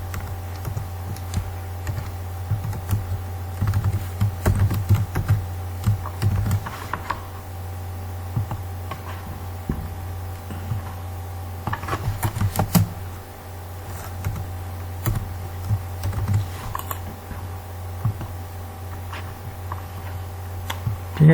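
A computer keyboard is typed on at a steady pace through a Java programming lesson. The clicks are soft and scattered, with a few louder bursts, over a constant electrical hum and no talk.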